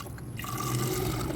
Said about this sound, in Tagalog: Then hugasan lang natin yung mga seeds.